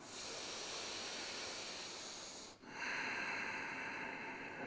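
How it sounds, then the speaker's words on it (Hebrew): Deep breathing during a yoga class: a long, steady breathy hiss that stops abruptly, then a fresh loud inhale or exhale follows, close and continuous with no talking. "ניקח פה כמה נשימות עמוקות לפני שנתחיל."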